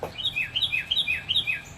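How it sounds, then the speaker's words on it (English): A small bird chirps outdoors close by, a quick series of high bright tweets repeating in an even rhythm over faint background noise. "can you guys hear this bird backing me up right now?"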